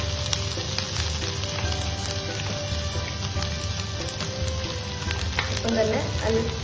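Boiled vegetables sauté in melted butter with a little salt in a pan, giving a loud, continuous sizzle and hiss with occasional light stirring clicks throughout.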